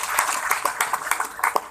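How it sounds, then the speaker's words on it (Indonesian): Applause from a church congregation at a ministerial visit, a dense run of claps with sharper individual hits rising out of the crowd, fairly steady and moderately loud throughout. "Tepuk tangan untuk kita sekalian"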